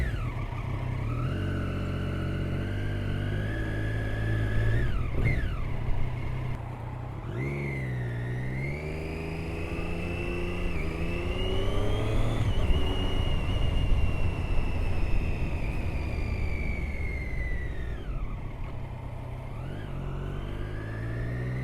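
A 2013 Triumph Daytona 675 rides on a test ride, its engine note rising and falling through several revs and gear changes, loud and close with steady wind rush underneath.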